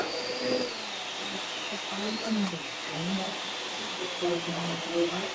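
A Ritello vacuum cleaner runs with a steady, high-pitched motor whine and airflow hiss, its pitch shifting slightly partway through, while someone talks over it at intervals.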